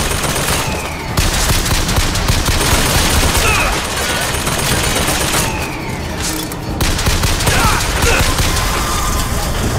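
Loud, dense bursts of automatic gunfire sound in the video game Bioshock Infinite, with short pauses between volleys and rattling, booming impacts during a close firefight.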